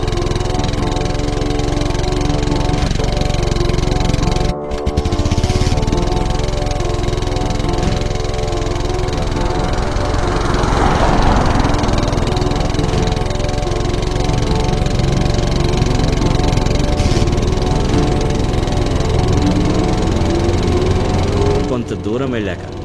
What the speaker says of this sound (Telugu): తన బైక్ పై ఒక్కడే ఒంటరిగా ప్రయాణమయ్యాడు